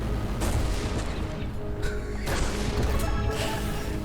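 Grenade launcher fire in the space game Everspace 2: heavy booming blasts and crashing impacts, a few loud bursts rolling over a constant rumbling engine drone, with no voice.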